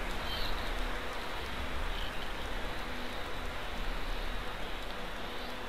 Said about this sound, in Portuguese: Começa a chover.